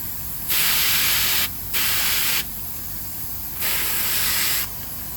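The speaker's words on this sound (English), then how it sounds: "You can see how little we're actually spraying here." Three bursts of aerosol spray paint hiss out in short presses onto a custom guitar body, separated by brief pauses, close to the microphone.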